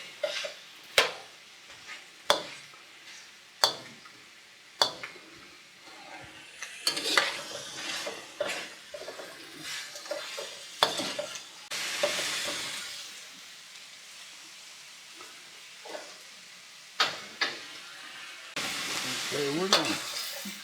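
Pepper steak with a teaspoon of sesame oil stirred in a hot pan, with a continuous sizzle and sharp intermittent clanks and scrapes of the utensil against the pan, close up.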